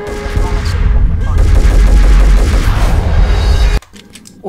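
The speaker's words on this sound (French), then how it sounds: "Ah non, c'est fusil à pompe." A shotgun blasts in the video game Max Payne, heard as a loud, dense roar of gunfire lasting several seconds that cuts off abruptly into a much quieter background.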